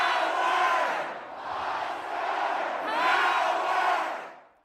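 A large student crowd at a rap concert in Nebraska roars and screams wildly in three long swelling waves, loud and unbroken, with no other sound standing out.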